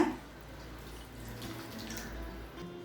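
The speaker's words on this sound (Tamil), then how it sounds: "இது கூடவே 1 கப் தண்ணி சேர்த்துக்கலாங்க" Water streams steadily into a pan of tomato kurma, a soft continuous pour with a low gurgling rumble, fairly close and moderately quiet, with no voices.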